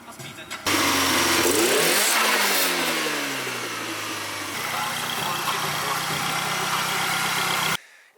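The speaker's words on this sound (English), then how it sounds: "this is definitely one of the most built Beams engines" A heavily built Beams engine in a Toyota Altezza bursts into loud revving, the pitch climbing and falling as it holds near and steady, then cuts off abruptly at the end.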